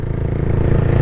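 A motorcycle engine revs close by, a rough, pulsing low rumble climbing slightly in intensity over about a second.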